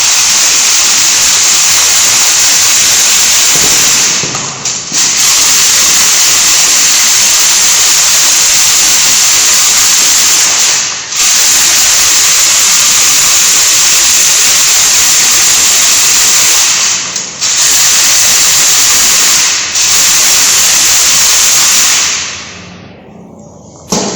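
Aggregate stones shaken in a circular motion on a 12.5 mm IS sieve in a civil engineering lab make a loud, continuous gritty rattle. The sound runs almost nonstop, with a few brief pauses, and stops near the end.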